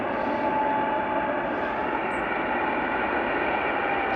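Wizz Air plane from Budapest landing at Liverpool Airport, a broad steady jet roar close and loud for the whole stretch, with no voices.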